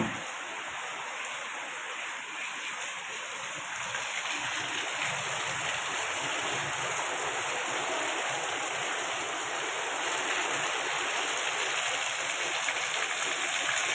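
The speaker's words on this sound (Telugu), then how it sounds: "చూడండి బయట చూడండి వర్షం ఎలాగొస్తుందో" Heavy rain pours down outdoors in Hyderabad, a steady, dense hiss of falling water that carries on unbroken and evenly loud throughout, with no voices.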